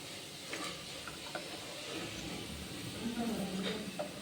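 Ring murukku frying in hot oil gives off a steady, low sizzling crackle, with a person talking over it throughout.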